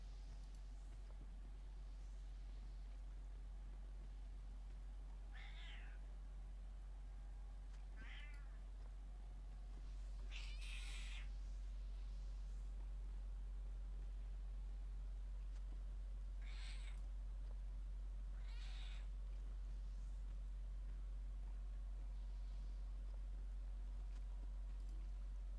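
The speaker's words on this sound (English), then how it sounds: "Kitty." A cat meows repeatedly over a steady low hum, giving five or six short, clear meows spread irregularly across the stretch, moderately loud and close.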